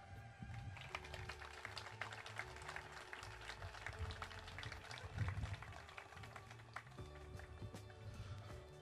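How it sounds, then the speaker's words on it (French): An audience at a formal school-year opening ceremony applauds in a hall, a steady, dense crackle of many hands clapping at a distance, sustained throughout without pause. "je vous demanderai de les applaudir"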